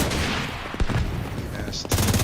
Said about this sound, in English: Go shoot your missile.